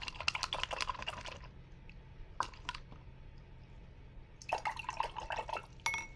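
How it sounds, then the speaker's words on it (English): A paintbrush is swished and tapped in a water cup, quiet clicking and trickling bursts in three clusters with pauses between, close and faint. "I'm going to wash my brush"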